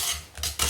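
Quick metal utensil scraping and clinking in a bowl as lemon tart mixture is stirred into melted butter, two or three short bursts close by.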